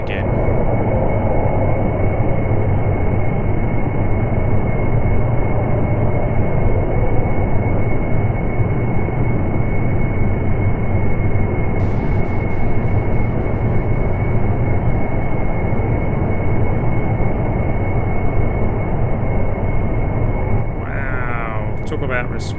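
Steady aircraft engine drone from a plane flying toward the runway in Kerbal Space Program, loud and continuous throughout, with faint higher whines and clicks near the end.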